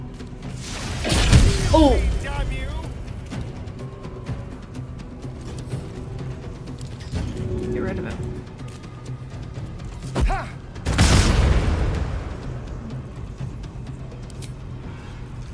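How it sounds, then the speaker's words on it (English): A bomb thrown and bursting during a Baldur's Gate 3 fight against Yurgir: two loud, shattering blasts with thuds, separated by quieter game ambience, and a voice exclaiming once. "Well, I'll just throw the bomb at him."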